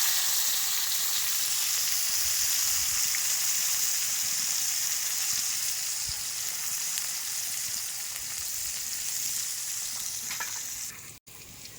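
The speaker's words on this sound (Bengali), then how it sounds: "ঘি দিয়ে ভেজেছি, খুব সুন্দর সেন্ট বেরিয়েছে। বিনসটা ভেজে নিচ্ছি।" Green beans frying in ghee in a pan, giving a steady, close, continuous sizzle that holds evenly throughout and dips briefly just before the end.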